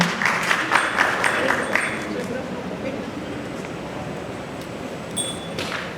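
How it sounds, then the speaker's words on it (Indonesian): Audience applause at an award ceremony, a dense clapping crowd that starts loud and gradually fades over several seconds, with faint chimes near the end. "Kita berikan tepuk tangan sekali lagi yang meriah hadirin yang berbahagia"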